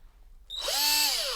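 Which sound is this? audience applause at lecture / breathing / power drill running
power drill running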